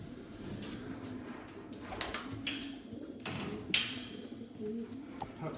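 Low, rolling coos from racing pigeons fill a stock loft, overlapping in a soft, continuous bed, with occasional sharp clicks and a brief rustle of movement.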